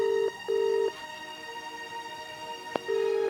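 A telephone ringing out unanswered in a Haryanvi family comedy drama: three steady, clear electronic tone bursts in a short repeating cadence, with quiet gaps and a single sharp click between them.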